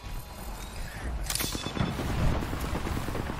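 Gunfire in the video game Apex Legends, a steady stream of rapid shots and booms, loud and continuous in a busy fight.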